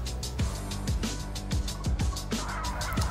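Many breeder turkeys gobble repeatedly in overlapping bursts over a constant low hum, a busy, echoing flock roaming free inside a laying barn.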